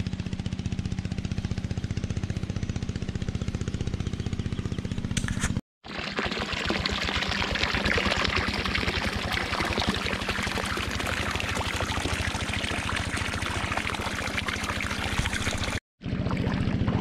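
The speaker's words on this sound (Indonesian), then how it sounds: "Ini airnya mengalir" Water flows through irrigated rice fields in Soppeng, South Sulawesi, a steady rushing pour close by with a faint low engine hum underneath, broken by two very brief dropouts.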